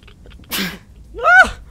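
A single sneeze in a Metro 2033 Redux gameplay session, a short sharp breathy burst followed by a louder voiced explosive release, close and alone.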